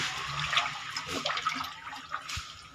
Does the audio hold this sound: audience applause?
no